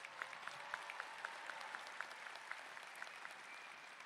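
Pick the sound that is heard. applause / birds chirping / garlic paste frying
applause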